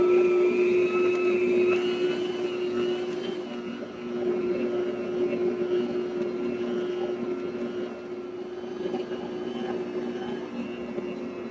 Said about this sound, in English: we're going to mix it on speed 1 just for about 1 to 2 minutes to get it good and incorporated